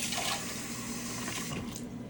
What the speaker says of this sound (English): I usually just rinse off the syringe in the sink just a little bit